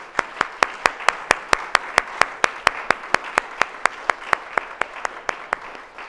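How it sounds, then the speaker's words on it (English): An audience applauds a panel after a discussion, with sharp, evenly spaced claps standing out over a softer bed of clapping that runs steadily throughout. "I think that the panel deserves a round of applause."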